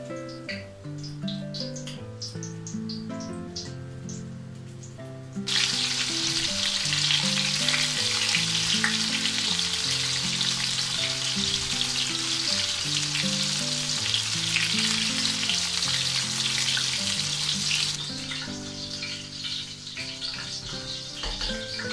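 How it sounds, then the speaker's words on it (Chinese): Meat-stuffed eggplant dipped in batter and fried in hot oil in a Gansu kitchen gives a loud, dense crackling sizzle that starts abruptly, runs for about twelve seconds and then drops away, with background music throughout. "放入油锅炸。"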